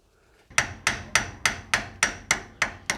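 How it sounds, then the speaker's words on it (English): A brass hammer strikes a seal puller tool wedged into a Toyota Land Cruiser swivel hub, giving nine crisp, evenly spaced metallic taps at close range with no voices. "give your seal puller tool a few taps with your brass hammer just to loosen that seal"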